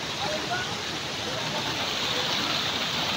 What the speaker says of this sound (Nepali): ल गाइस यो खोलो बवाल छ होइन।